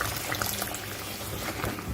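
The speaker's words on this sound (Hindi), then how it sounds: "अब इसमें मैं डाल दूँगी हाफ गिलास पानी।" Half a glass of water poured into a pot of chicken curry, giving a steady splashing, bubbling liquid sound up close that runs for about two seconds without talk.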